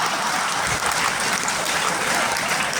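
Crowd applause at an Urdu mushaira poetry gathering during the Mysuru Dasara festival, a dense, steady wash of clapping filling the room for about three seconds with no break.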